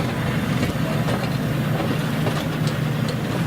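The Alder Gulch Short Line train pulls into the Nevada City station in Montana, with steady rolling rumble and scattered wheel clicks and creaks heard up close from on board, without talk.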